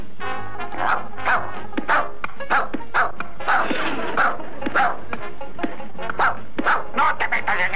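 A cartoon dog in a 1992 Pink Panther episode with an anteater gives a run of short, sharp yaps and barks, repeated roughly every half second, close and fairly loud over a faint background hum.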